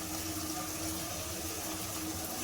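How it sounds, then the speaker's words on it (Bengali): Water poured into a pan of fried spice paste for a soybean dhoka dalna, a steady soft gushing splash that runs for a couple of seconds at moderate level, with no voices. "আমি অল্প একটু জল দেব।"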